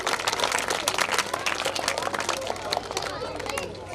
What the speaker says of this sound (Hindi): साथ तालियों के गड़गड़ाहट के साथ इनका स्वागत करें